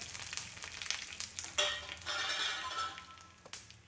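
Dried red chilies and curry leaves crackle and sizzle in hot oil, with a steady broadband frying hiss broken by sharp pops and a louder burst as more goes into the pan, close and clear with no talking.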